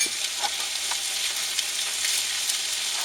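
Pasta and scallops fry in a pan in a truck cab kitchen, giving a steady, close, dense sizzle that runs without a break and with no talking.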